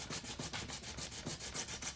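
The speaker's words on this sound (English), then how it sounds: "And all I'm doing is putting it on here like this. Just sanding it flat." Sandpaper of 80 grit is rubbed back and forth in steady, rhythmic strokes to flatten a part for a slot car build, a close, raspy scraping repeating about five times per second.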